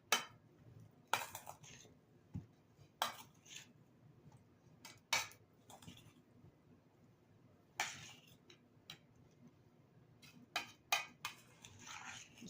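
Potato salad stirred in a bowl, sharp scattered clinks and scrapes of a utensil against the dish, irregular and fairly close, with quiet gaps between.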